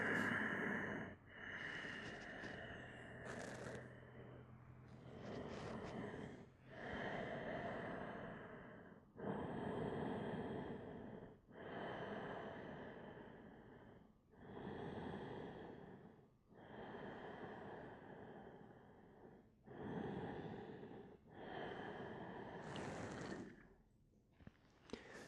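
Slow, deep breathing during a short yoga sequence, with about ten long, even breath cycles repeating every two seconds or so, close and clear, with no talking.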